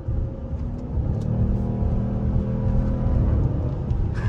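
A Dodge Durango R/T's engine pulls hard with a steady, loud rumble from inside the SUV, its drone shifting pitch slightly as it accelerates through the gears.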